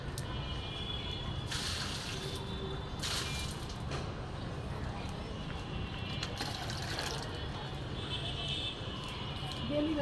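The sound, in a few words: bucket being filled with water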